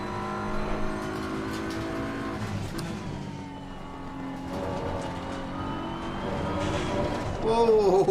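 A race car engine in Assetto Corsa Competizione roars continuously, loud and close from the cockpit, its pitch dipping and climbing as it shifts and accelerates, while someone talks over it.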